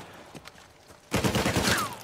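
Gunfire in the video game Uncharted 4 erupts suddenly after a quiet stretch with a few faint thuds: a loud, dense burst of rapid shots that keeps rattling on without a break.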